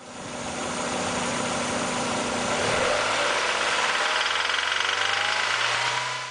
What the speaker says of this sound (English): Oh wait, I hear rod knock.